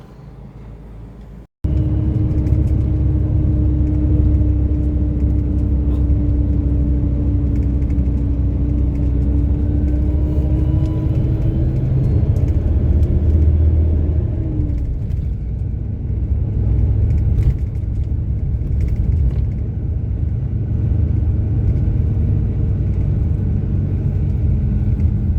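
Bus engine running during a ride in Sorsogon City, a steady low rumbling drone with road noise, smooth and fairly quiet, with a faint whine that shifts pitch midway.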